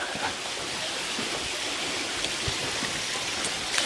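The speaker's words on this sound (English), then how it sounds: "Got another little waterfall out here." A small waterfall at a Roman-style spa on a large estate, steady broadband rushing and splashing water, close and continuous without pause.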